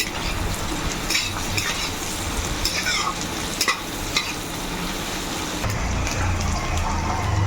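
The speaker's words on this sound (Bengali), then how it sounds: "সেই মশলাটা আমি অর্ধেকটা দিয়ে দিচ্ছি, দিয়ে ভালো করে মিশিয়ে নেব" A ground, dry-roasted spice mix is stirred into mixed fried rice in a hot pan, with repeated scraping and stirring strokes over a steady close sizzle.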